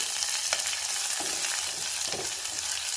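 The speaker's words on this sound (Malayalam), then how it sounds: "അര സ്പൂൺ ഇഞ്ചി അരിഞ്ഞത് ചേർക്കാം നല്ല ഇളക്കുക" Chopped ginger stir-fried in a pan, giving a steady close sizzle with a few soft scrapes of stirring, no voices.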